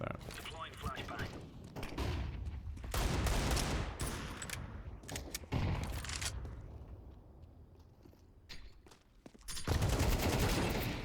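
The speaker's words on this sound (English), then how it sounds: "Deploying flashbang." A flashbang and bursts of gunfire in Counter-Strike, dense and loud in several waves with brief lulls between them, while someone talks over the action.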